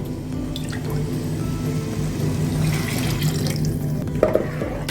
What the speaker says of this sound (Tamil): இப்போ கொஞ்சம் தண்ணி ஊற்றி மிச்சி சாரை கழுவி தண்ணி விட்டுக்கலாம்